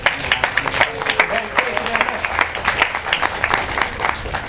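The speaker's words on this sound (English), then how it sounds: "Give yourselves a nice round of applause." Audience applause at a Gaslight gathering, a steady patter of many hands clapping at moderate loudness, continuous and even throughout, with no voices standing out.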